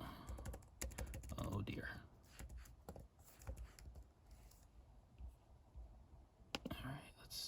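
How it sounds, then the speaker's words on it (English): Keys clatter on a computer keyboard typed in the dark, rapid irregular clicks in bursts close to the mic, with a voice murmuring briefly over them. "I'm typing in the dark here"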